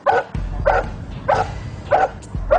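A muzzled police dog barks loudly and sharply five times at a steady rhythm during an arrest drill, each bark a short burst separated by brief pauses, close by.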